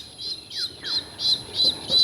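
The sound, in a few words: chicken squawking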